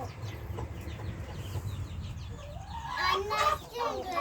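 Chickens cluck nearby in a garden in short bursts, with a louder burst of clucking and squawking toward the end over light background noise.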